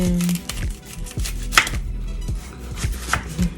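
An onion being chopped on a cutting board for an oxtail dish: a run of sharp, close knife strikes in an uneven rhythm, with no talking.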